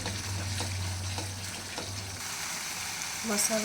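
Spice masala fries steadily in oil for a Bengali-style mushroom curry with potato and capsicum, a close, even sizzle throughout with faint clinks from stirring.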